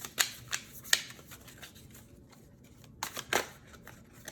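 Quiet riffling and soft snapping of tarot cards being shuffled, in a few separate bursts with brief pauses, close by and fairly faint.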